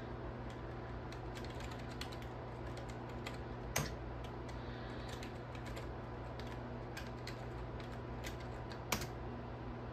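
Keys tapped on a computer keyboard while a password is entered on an old Packard Bell 7800 PC, a steady run of soft, close clicks over a constant low machine hum, with two sharper key strikes standing out.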